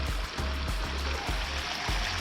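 Mountain river in the Carpathians rushing over rocks in winter, a steady loud broadband flow with occasional low thumps close by.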